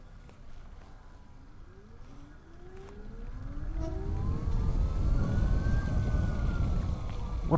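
A Zero S electric motorbike's motor whines as it rides, a rising electric tone that climbs steadily in pitch as the bike accelerates, over growing wind and road rumble, with no talk.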